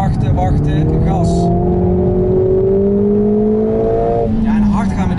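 Mercedes-AMG A45 S or Renault Mégane Trophy-R hot hatchback accelerating hard, engine note climbing steadily in pitch, loud and close from inside the car, with someone talking over it at the start and end.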